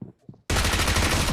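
Gunfire erupts in the mobile battle game BGMI, a sudden loud, dense burst of rapid automatic shots right after a few brief spoken syllables.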